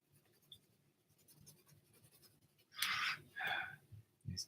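Cheap Crayola colored pencils scratch across paper while a cartoon is drawn, quiet faint strokes at first, then several louder, close scribbling bursts near the end.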